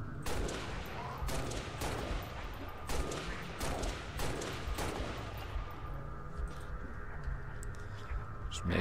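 Gunfire in the shooter game Halo Reach, rapid automatic bursts and scattered shots for several seconds, then fading to quieter distant pops.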